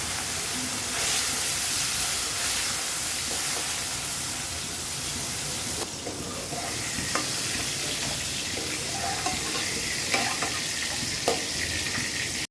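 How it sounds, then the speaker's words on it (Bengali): Turmeric-and-salt-rubbed fish fry in hot oil, a steady close sizzle and hiss with occasional sharper pops and spatters, continuous throughout and fairly loud. "এখন মাছগুলো আগে ভেজে নেই।"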